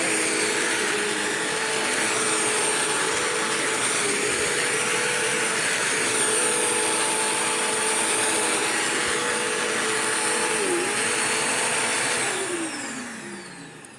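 A Bissell CleanView vacuum cleaner runs with a loud, steady whine and drone, close by and alone, then begins to wind down near the end.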